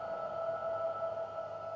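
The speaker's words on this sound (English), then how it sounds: "So that's going to freeze the reverb." A frozen reverb drone from a United Plugins reverb plugin, a sustained, even, glassy tone holding steady with no attack or decay.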